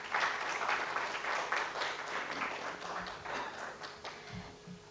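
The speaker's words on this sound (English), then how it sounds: "Everyone, please give a big round of applause." A seated audience claps for a bouquet presentation at an academic botany course ceremony, a steady wash of crowd applause lasting throughout at moderate volume, with a couple of soft low thumps near the end.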